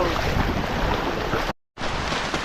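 A strong stream current rushes loud and continuous during a monsoon trek to Ratangad near Bhandardara, roaring close to the microphone with a brief dropout partway through and no speech.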